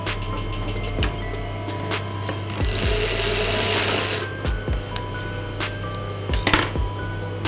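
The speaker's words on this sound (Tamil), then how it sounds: "ஜஸ்ட் ஒரு தையல் போட்டு வச்சுக்கிறேன்." A sewing machine running a quick stitch along the edges of a blouse, bursts of whirring motor hum with mechanical clicks and thumps in between, fairly close and without speech.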